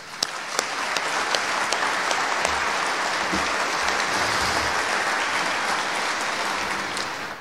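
An audience applauds at a Navy Sailor of the Year ceremony, a dense, steady round of clapping from a sizable crowd that holds evenly throughout with a few sharper claps close by.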